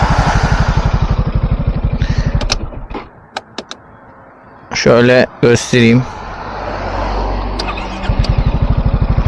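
A 2017 Yamaha Xmax 250 scooter engine with a modified original exhaust idles with a rough, rapid putter, pausing while someone speaks briefly, then revving back to its loud, throaty exhaust rumble.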